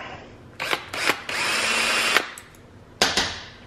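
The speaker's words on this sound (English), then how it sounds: "I do need to deburr that little hole." A powered deburring tool working the small hole in a brake line during a disc brake hard line conversion, several short whirring bursts and one longer steady grind, loud and close with no talk.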